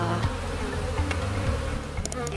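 Honey bees hum in a dense, continuous buzz around the hives of a bee yard, close and steady, with individual bees droning past the microphone.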